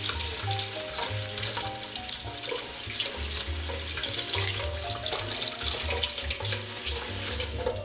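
Steady running water pours into the base of a silent spinner wheel in a basin, a continuous splashing rush with faint clinks, close by and fairly loud throughout.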